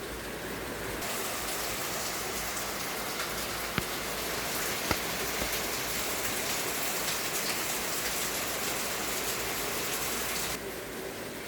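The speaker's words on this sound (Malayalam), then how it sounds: "അപ്പം അത്യാവശ്യം മഴ ഇങ്ങനെ നിൽക്കുകയാണ്." Steady rain falls in a Kerala setting, a dense, even hiss of drops on surfaces that continues unbroken, with a couple of sharp isolated clicks and no voices.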